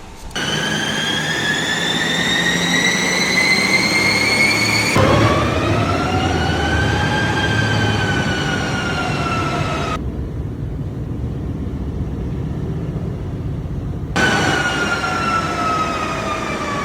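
A car engine revs on a dynamometer during an ECU remap, a loud, sustained mechanical whine that climbs and falls in pitch across repeated pulls, with a brief drop to a lower drone before the revving resumes.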